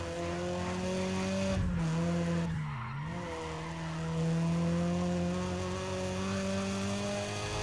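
Racing car in Need for Speed ProStreet braking hard, a steady engine drone with tire squeal and a brief dip in engine pitch as it slows, then recovers and holds on, loud and continuous with no talk.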